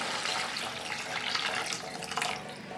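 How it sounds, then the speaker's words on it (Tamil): A steady stream of water pours into a pan for vermicelli, a continuous close rushing splash that keeps going without a break and with no talking. "இப்போ தண்ணி ஊற்றிக்கலாம்."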